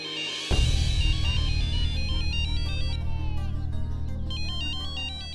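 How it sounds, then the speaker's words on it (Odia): A mobile phone ringtone rings loudly and continuously, a bright repeating electronic melody starting abruptly and playing alone without voices. "ଆପଣଙ୍କ ଫୋନଟା ବାଜୁଛି ବୋଧେ।"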